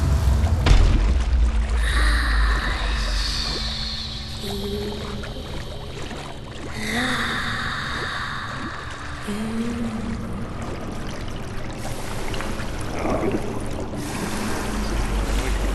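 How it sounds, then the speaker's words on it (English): Water surging and receding in Conan Exiles, a steady washing, flowing rush with swelling and ebbing loudness across the whole stretch, with some low rumble beneath and no voices. "the water goes up and down on intervals instead of just staying up"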